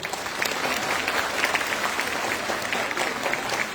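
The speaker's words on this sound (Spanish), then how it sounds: "Un aplauso, por favor" Steady, moderately loud audience applause at a panel discussion, continuous clapping from a crowd with no voices over it.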